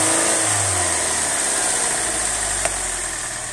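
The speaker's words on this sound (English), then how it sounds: "Now we'll just rev it a bit, and we'll see if our fuel pump is working all the way through the rev." A 2.2 Ecotec engine runs during a fuel pump pressure test, revving up briefly and then settling back toward idle with a steady hum, close and loud with no talking.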